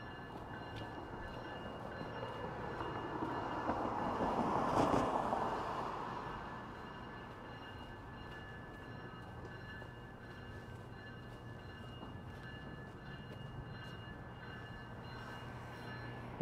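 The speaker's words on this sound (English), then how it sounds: "That GO train is slowly rolling out." A GO commuter train rumbles at a distance in Toronto, swelling briefly as it rolls out of a station, then settles into a steady, low mechanical drone.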